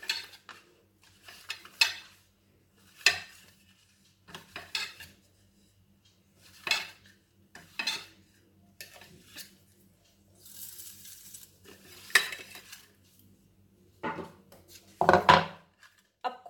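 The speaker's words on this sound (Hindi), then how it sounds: "अब यह हमारा फोल्ड हो चुका है, इसको छोटे छोटे हिस्सों में काट लेंगे।" A knife cuts folded, layered nimki dough into small pieces on a board, giving a series of separate short knocks and scrapes spaced a second or two apart, with occasional light clatter.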